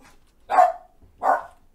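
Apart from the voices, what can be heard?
dog barking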